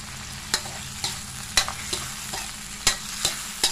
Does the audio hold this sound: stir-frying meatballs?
yes